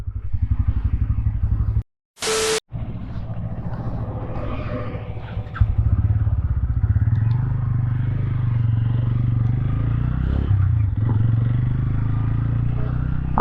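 A Bajaj Pulsar N160 motorcycle engine hums steadily during a ride, a close, even drone that cuts out briefly near the start and then runs on with wind rumble.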